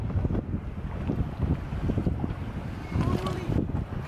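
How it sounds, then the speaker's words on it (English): Wind buffets the microphone over a rumbling motorboat engine as the craft moves across open water around Peanut Island, with voices faintly mixed in. "I'm driving boat around the other side of the island"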